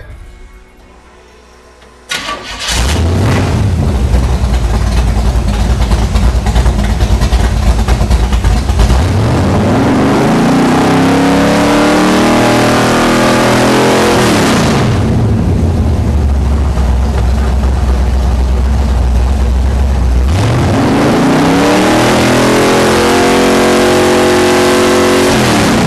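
Car engine fitted with an MSD Digital 6AL-2 ignition, running loud and close at a steady idle of about 1,000 RPM, with repeated rising and falling revs that swell and drop back to idle.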